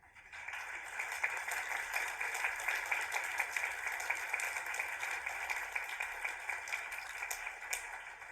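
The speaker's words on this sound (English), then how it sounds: "Let's give them a round of applause." A graduation audience at Oxford Brookes applauds friends and family with steady, sustained clapping from a large crowd, building over the first second and holding at an even level.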